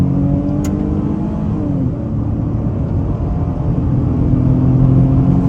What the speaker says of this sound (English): Looks like a good opportunity to try an acceleration off the line.